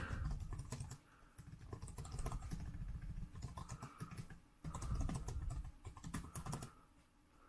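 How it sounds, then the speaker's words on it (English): Rapid typing on a compact detachable keyboard case for a 12.9-inch 2018 iPad Pro, with quick light key clicks in bursts and brief pauses between them, close to the mic. "I'll do some typing"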